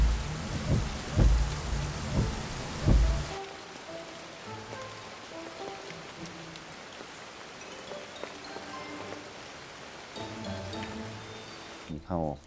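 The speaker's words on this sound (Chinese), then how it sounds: "下雨了。" Heavy rain pours loudly at first, then eases into a steady, softer downpour with scattered drips, while people talk over it and a brief rumble or crack sounds near the end.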